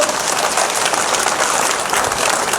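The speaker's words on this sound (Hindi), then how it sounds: "जोरदार तालियां साथियों।" Loud, dense crowd applause at an outdoor gathering welcoming Zorawar Singh Jamwal to meet daily wage workers in Jammu, steady clapping with no talk over it.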